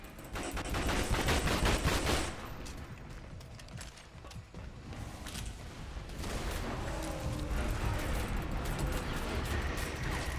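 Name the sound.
shotgun gunfire in a dinosaur video game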